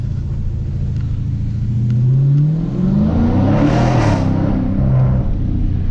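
A car engine revs hard and downshifts on a late-night drive through a tunnel, a loud continuous roar that climbs and drops in pitch with gear changes, alone without talk.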